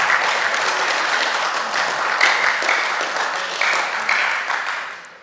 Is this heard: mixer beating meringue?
no